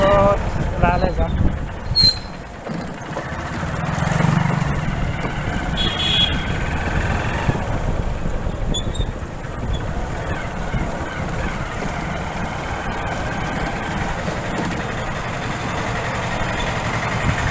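A motorbike engine idles with a steady low rumble throughout, with brief clicks and rustles on top.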